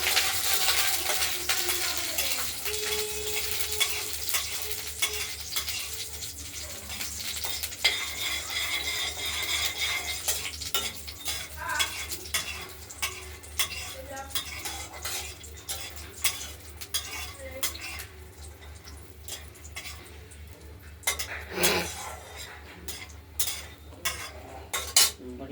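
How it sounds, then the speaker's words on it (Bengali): Bori lentil dumplings frying in mustard oil, with a faint sizzle beneath repeated scraping and clinking of a metal spoon stirring in the pan, the knocks growing sharper and more spaced toward the end. "তেলটা গরম হলে আমরা বড়িটা ভেজে নেব"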